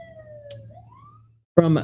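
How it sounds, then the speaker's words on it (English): A distant ambulance siren near a hospital wails in a slow, faint tone that drifts in pitch and fades away. A voice then starts speaking close by. "My office is close to a hospital. That's why there's so many ambulances."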